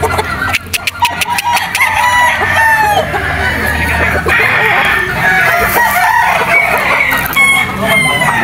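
A Tornado Hatch gamefowl rooster crows loudly at a gamefarm on Mt. Banahaw, with other roosters crowing and clucking around it and someone speaking over the birds.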